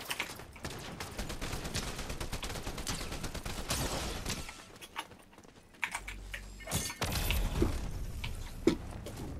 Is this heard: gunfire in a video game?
yes